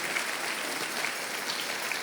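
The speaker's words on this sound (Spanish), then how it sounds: "Y esto merece un aplauso." A church congregation at an Easter Sunday service applauds in a steady, dense wash of clapping, moderately faint and continuous throughout.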